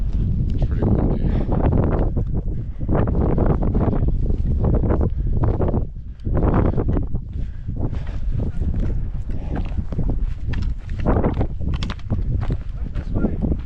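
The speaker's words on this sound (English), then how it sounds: "It's pretty windy." Strong gusts of wind in the Alaskan backcountry of Wrangell-St. Elias National Park buffet the microphone almost continuously, loud and roaring, with only a brief lull partway through.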